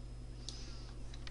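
A computer mouse clicks while working in Outlook, producing a few faint, sharp clicks over a low steady hum from the machine.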